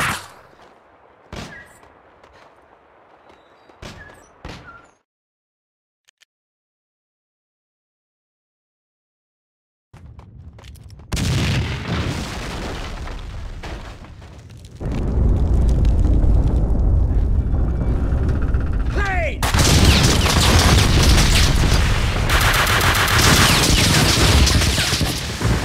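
Gunfire from the Max Payne 2 video game: a few sharp isolated shots, a silent gap, then rising sustained bursts of rapid fire and blasts that grow loud and dense toward the end.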